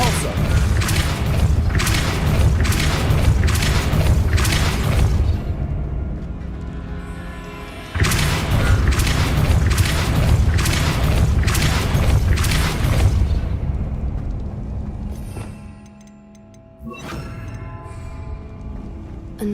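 Depulso spell cast in Hogwarts Legacy, a run of heavy booming thumps repeated in quick succession, pausing and then repeating, with magical rumbling tails and brief tonal ringing after the bursts.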